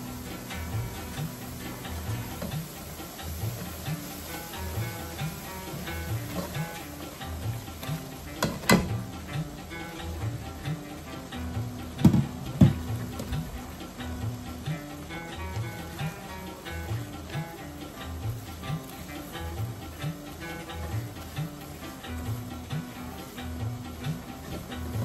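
Flour frying in hot oil while halva made with four kinds of nuts is cooked, giving a steady soft hiss and sizzle with faint ticks and a couple of sharper clinks, close and continuous with no talk.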